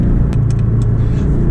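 A Porsche 718 Boxster GTS mid-engine car drives with a loud, steady low rumble and a few faint clicks and ticks over the engine drone.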